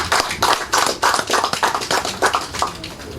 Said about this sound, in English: give, as I usually ask at all times, a special round of applause for the traditional cultivators